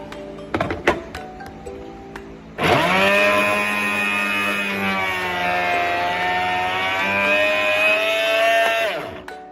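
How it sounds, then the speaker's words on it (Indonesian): An electric blender grinds chopped cabbage after a few sharp clicks, starting abruptly into a loud, steady, close motor whine that holds for about seven seconds before winding down, with no talking. "menghancurkannya dengan penghancur buah atau blender"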